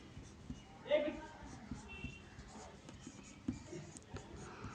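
Chalk or marker scratches on a board during a Class 10 NCERT math lesson, short intermittent strokes and taps under a teacher's quiet, ongoing speech.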